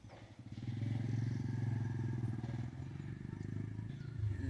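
A motorcycle engine drones steadily close by, a thick low rumble that holds for several seconds with slight swells, like a bike idling or rolling slowly past.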